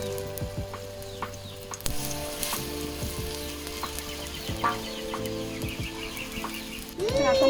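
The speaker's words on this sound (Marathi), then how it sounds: "तेल चांगलं तापलेलं आहे तर आता मी पातळ टाकून ठेवून घेते" Wild vegetable batter frying in hot oil, a steady close sizzle with clinks of utensils and a few background bird clucks, brief voice sounds near the end.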